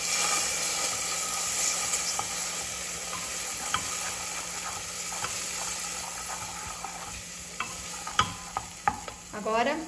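Steady sizzling of tomato sauce in a frying pan with soft stirring scrapes, ending in a few sharper clinks and scrapes.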